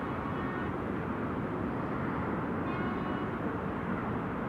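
An Airbus A380 of World Flight Corendon taking off at Amsterdam Schiphol Airport, a steady, fairly faint broadband engine roar heard from a distance, with no rise or fade and no talking.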